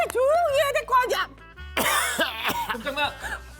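Several short, harsh coughs and throat-clearing bursts from people in a comic skit, mixed in among lively talking voices.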